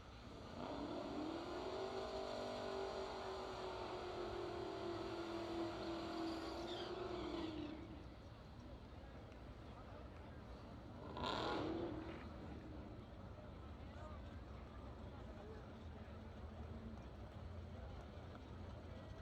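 Hot Rod class drag race cars roar loudly at a drag strip meet, a sustained engine howl with rising pitch that cuts off, then another brief burst passes amid steady crowd and track noise.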